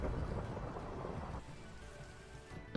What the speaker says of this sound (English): there was thunder, and I'm like, okay, I don't want anything to burn even though it is raining